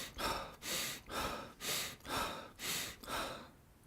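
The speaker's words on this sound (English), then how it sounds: "Or you can breathe in through your nose and out through your mouth." Close rhythmic breathing in through the nose and out through the mouth, seven quick even breaths at a steady pace, with no talk over them.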